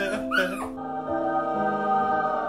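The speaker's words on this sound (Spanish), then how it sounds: "Perro, ven aquí." Dog whimpering and yipping in a horror-style video game: a short burst of high, wavering yips at the start, then a sustained whine running steadily to the end, fairly close and alone without talk.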